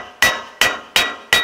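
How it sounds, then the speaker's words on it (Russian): A hammer strikes a sprocket on a Claas Rolant 46 round baler four times during a roller bearing repair, each blow a sharp, loud metallic clang with a short ringing decay, spaced at a steady rhythm. "По звездочке молотком."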